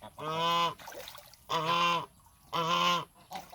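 Three loud, nasal goose honks in a steady rhythm, each about half a second long, with faint splashing and trickling water between them as geese play in a cement mixing tub of rainwater.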